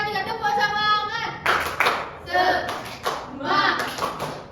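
In a primary school science class, children clap a rhythmic 'tepuk semangat' chant, their bursts of patterned claps mixed with loud chanting voices at close range.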